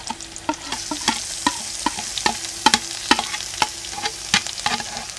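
Crushed garlic, ginger and green chili fry in hot oil with a loud, close sizzle, while a spoon stirs and scrapes the pan in a quick run of sharp, irregular clicks.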